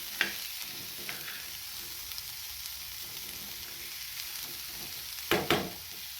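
Quiet sizzling of a pea mixture in a pan as it is stirred, with a few sharp scraping clicks of the spoon against the pan, strongest near the end, and no talk.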